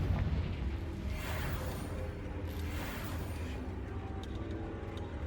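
Fiery explosive blasts of the Confringo spell in Hogwarts Legacy, a sustained loud rumbling boom with crackling bursts rolling through the whole stretch, no speech.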